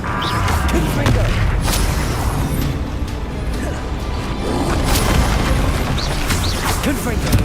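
Confringo fire spells cast repeatedly in Hogwarts Legacy, sounding as booming, crackling blasts and crashes over a dense, continuous wash of game combat noise, with a voice speaking over it.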